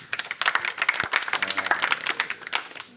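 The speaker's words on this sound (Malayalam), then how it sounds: "നിങ്ങൾക്ക് നല്ലൊരു കയ്യടി" An audience at a school function claps in a brief burst of dense, overlapping hand claps lasting a few seconds, fairly close and steady.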